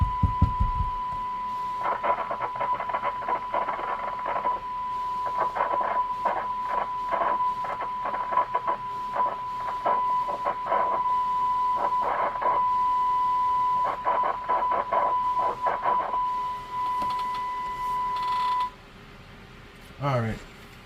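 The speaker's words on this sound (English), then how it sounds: "Even just moving the radio around, you can hear the receive cut in and out." Audio from a President Washington CB radio on AM receive keeps dropping out and returning in choppy bursts, a steady tone and crackly noise cutting in and out repeatedly, with a person talking in between.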